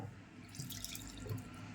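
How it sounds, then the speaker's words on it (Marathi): Water pours in a short, quiet steady trickle into a mixer grinder jar of masala, splashing softly throughout. "आता याच्यामध्ये थोडंसं पाणी टाकायचं"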